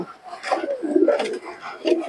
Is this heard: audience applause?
no